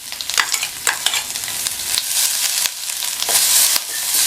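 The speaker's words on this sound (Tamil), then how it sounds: "சேர்த்துட்டு இதை லைட்டாக இந்த மாதிரி 1 நிமிஷம் போல் பரட்டி விட்டுக்கணும்" Coarsely ground coconut, green chili and ginger masala stirred in a pan over low flame, loud close scraping strokes and a soft sizzle in a steady back-and-forth rhythm.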